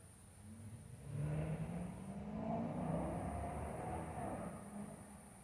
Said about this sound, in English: Sit and watch the cars go by.